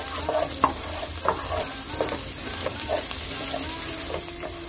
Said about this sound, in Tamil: 3-4 கிரீன் சில்லி, வெங்காயத்தை நல்லா ஓரளவு நல்லா வதக்கி விட்டுங்க